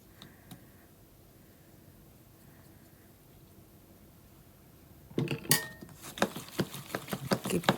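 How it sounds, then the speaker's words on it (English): Near silence gives way, about two-thirds through, to a flourless peanut butter bread batter being whisked in a bowl: quick, irregular clinking and scraping strokes of the whisk against the bowl, close and fairly loud. "you just whisk and whisk and whisk"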